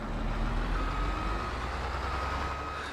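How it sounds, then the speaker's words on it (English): Warning beep of a Polispec NIR sensor on farm machinery in Farming Simulator 22, a steady high tone repeating over the loud, continuous rumble of a working vehicle engine. "I want to actually be able to hear the damn beep."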